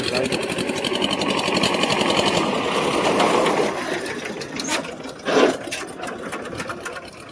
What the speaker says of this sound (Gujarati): પંખો તૂટી ગયો છે એને ઇગ્નોર કરજો.